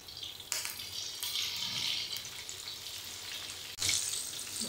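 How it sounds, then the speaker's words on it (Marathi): Green chillies slit and stuffed with salt, frying in oil: a steady, loud hiss and crackle throughout, with sharper sizzling surges when the chillies move, and no talk. "इथे मी 4 मिरच्या अशा मध्ये चिरून त्यात मीठ भरून घेतले। हे तळून घ्यायचं।"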